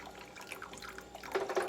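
Cornstarch water pours into a pan of raisin sauce for ham, giving faint liquid trickles and drips that grow a bit louder toward the end.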